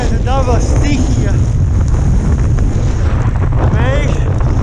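Strong wind of about 60 km/h at Nordkapp roars and buffets the microphone steadily throughout, a loud, dense rush with brief voices faintly audible underneath.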